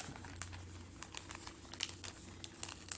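Crinkly packing material is folded and crumpled by hand for an eBay parcel, a quiet run of small crackles and taps close by with no talking.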